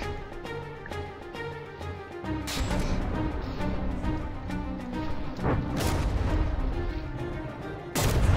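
Naval battle in the game From the Depths, with warships trading heavy gunfire: a dense, continuous barrage of booming cannon shots and crashing impacts, with especially loud blasts near 2.5 and 8 seconds.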